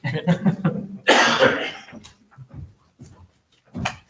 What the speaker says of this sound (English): I'm gonna keep coughing on the microphone.